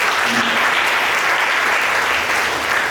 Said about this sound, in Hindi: या धन्यवाद की ताली दे सकते हैं।